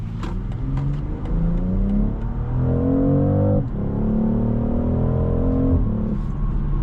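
A 2025 BMW X3 M50 hybrid accelerates hard, heard from inside the cabin: engine and motor tones climb steadily, drop at a quick upshift, then climb again under a constant road roar.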